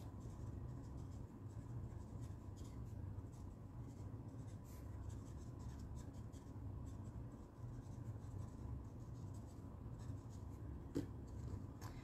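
An olive green alcohol blend marker is colouring over paper for a handmade card, a soft, continuous scratchy scribbling close by with no talk.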